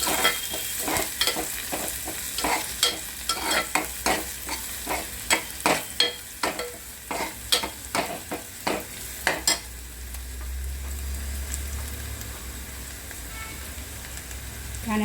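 Sandga roasting in a pan with curry leaves and hing, stirred in a steady rhythm of repeated scraping strokes over a soft sizzle, the stirring stopping near the end as a low rumble rises.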